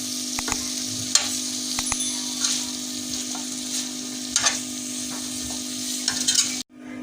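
Chicken shawarma filling with capsicum and onion sizzles steadily in a pan while being stirred, with scattered spoon scrapes and clinks over a constant low hum, ending abruptly.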